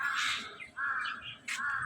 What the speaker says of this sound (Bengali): কাক ডাকতেছে এতক্ষণ গু গু গু গু গু গু করে ডাকতেছে